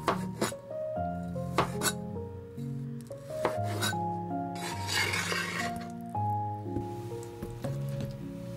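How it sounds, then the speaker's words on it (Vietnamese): Boiled bamboo shoots sliced lengthwise with a knife on a board in a home kitchen, giving a series of close, crisp cutting taps and clinks in a steady rhythm, with no talking. "Mình cắt măng theo chiều dọc như thế này."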